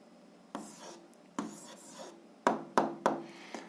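Pen writing an algebra answer by hand, close scratchy strokes in short bursts with a few sharp taps, separated by quiet pauses.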